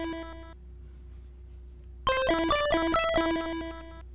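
Game Boy chiptune melody from the Carillon music tracker: a sustained square-wave tone gives way to a bright, busy run of bleepy notes that plays on fairly loud to the end, with no voices.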